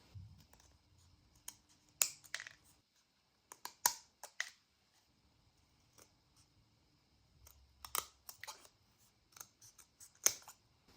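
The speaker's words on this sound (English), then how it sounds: "So we'll just cut some irregular spikes in here." Scissors snip irregular spikes into a paper crown, producing scattered crisp cuts in small clusters, close and fairly quiet, with pauses between them.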